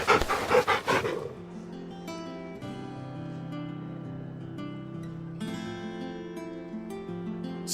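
Torgal, a large dog in Final Fantasy XVI, gives a burst of loud panting huffs at the start, then a game music score plays on alone.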